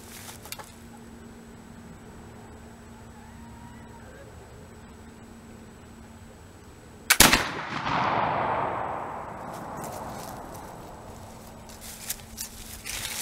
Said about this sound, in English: Shoot a piece of wood this time.